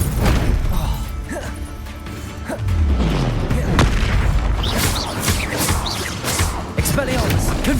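Confringo blasting spells exploding during combat in Hogwarts Legacy, played on hard difficulty. Repeated heavy booms and crashes land close and loud amid chaotic battle effects, with a voice calling out over them.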